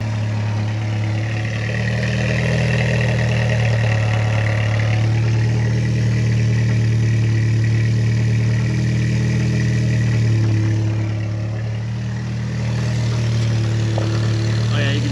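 The engine of a Mk2 Jetta fitted with a homemade exhaust that has a leak idles steadily up close, a constant low rumble with a faint tick running through it for the whole stretch.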